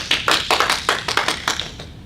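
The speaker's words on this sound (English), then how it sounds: "So everybody, round of applause for Michael Jones." Scattered applause from a small audience greeting a speaker at a distance-learning talk: a few people clapping in uneven bursts at close range, over about two seconds, with no voices.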